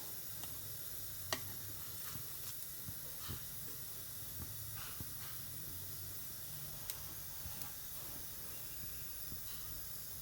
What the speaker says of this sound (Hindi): अब एहिमे हम सरसों के तेल दऽ देबै। एहिमे हम सरसों के तेल डालि देलिए हँ। तेल गरम होइ छै।